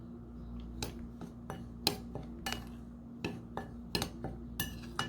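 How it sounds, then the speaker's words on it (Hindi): A spoon stirs flour, milk powder and baking powder in a bowl, giving a steady run of crisp clinks and taps against the bowl's side, close and fairly quiet. "इसको एक बार स्पून की मदद से मिक्स कर लेंगे"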